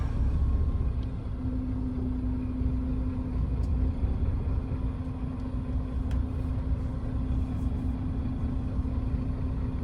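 A vehicle sits in a traffic jam on a toll road on the way from Cikande to Palembang, with a steady, moderately loud low engine rumble and a faint hum inside the cabin.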